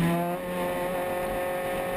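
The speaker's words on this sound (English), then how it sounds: "Beautiful Datsun 1200." A Datsun 1200 race car, fitted with a different engine, runs past on a circuit at Bulawayo, its steady engine drone holding level and fairly loud throughout without a clear swell or fade.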